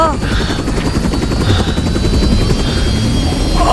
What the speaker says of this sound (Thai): เฮลิคอปเตอร์กำลังจะตก